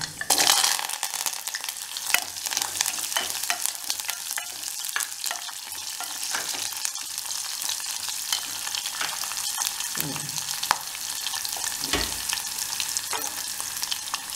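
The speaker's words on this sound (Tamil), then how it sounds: "இப்போ வெங்காயம் நல்லா வதங்கி இருக்குல்ல" Chopped onions sauté in oil in a pan for an okra tamarind curry, giving a continuous close sizzle with occasional scraping stir strokes and no talking.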